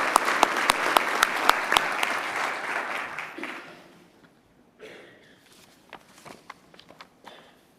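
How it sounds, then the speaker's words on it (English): Applause at a police academy graduation for Kate Hogan, with loud claps and sharp individual hits at first, then thinning out and fading into scattered claps and light shuffling. "Let's give a round of applause for Kate."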